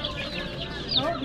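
Chickens and chicks cluck and peep close by in a brief burst, with a person's voice faintly mixed in.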